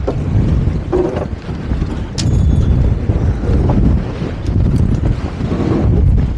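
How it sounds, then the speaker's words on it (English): Loud, continuous wind buffeting a microphone while sea fishing off the UK, a low rumbling roar that surges and eases, with faint water and boat noise beneath. "Blimey, she is windy."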